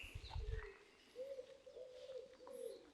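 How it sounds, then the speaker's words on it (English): Pigeons coo softly outdoors with a few low, rolling calls repeating, while a brief low thump comes in at the start. "Now you can hear the pigeons as well."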